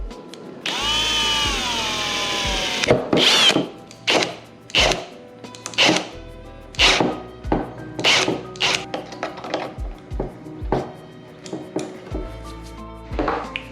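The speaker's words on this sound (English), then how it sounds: "I'm just gonna drill a hole, and that is where it shall lay." A power drill whines for a couple of seconds as it bores a hole in a 2012 Mazdaspeed 3 while fitting a dash cam, followed by a series of scraping, clattering handling noises.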